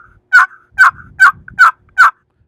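A turkey call imitates the plain yelp of a wild turkey hen, five evenly spaced, sharp, close notes.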